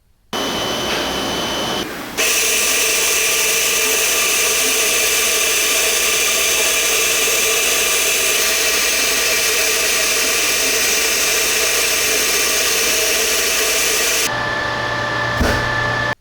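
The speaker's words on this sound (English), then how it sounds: "I'm going to be using a top and bottom cover stitch for the collar." Top and bottom cover stitch sewing machine running steadily while stitching a collar for bonded garments, a loud continuous mechanical whir held for about twelve seconds before stopping abruptly.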